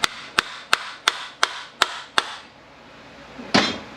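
Seven sharp metallic hammer blows strike a bushing driver seated down inside a B7WA transmission to drive out the hub, evenly spaced and close by, followed by a brief pause and a heavier knock or scrape.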